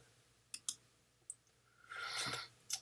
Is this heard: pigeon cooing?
no